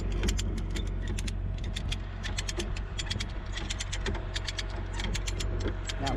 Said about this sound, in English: with the come along, I pull it together